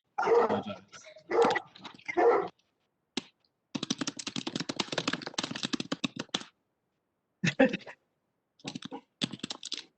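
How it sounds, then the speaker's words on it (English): A very large dog barks in several heavy bursts, first three loud woofs then a rapid string of barks and a few more later, close and prominent over the audio of a remote committee meeting. "that sounds like a very large dog"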